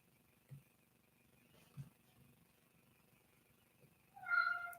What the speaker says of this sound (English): Those are some loud meows.